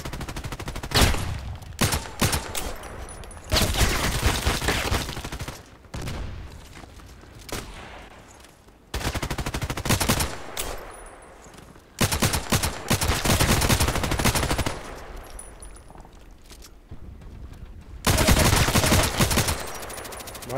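Assault rifle fire in the online shooter Contract Wars, repeated loud close bursts of rapid automatic shots separated by short quieter pauses, with no talking.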